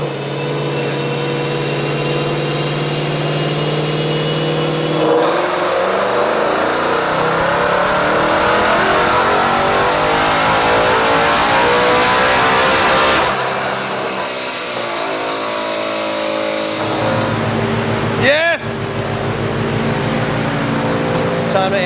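A 2024 Ford Mustang Dark Horse with a Whipple supercharger revs hard and close on a dyno, the engine climbing and dropping through several long pulls with a whining supercharger note over the roar.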